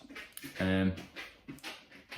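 A dog pants in quick, breathy bursts with a short whimper in the middle, close by, while a person speaks softly around it.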